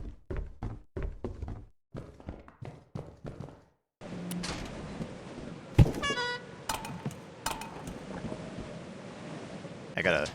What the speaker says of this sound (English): I gotta honk the horn.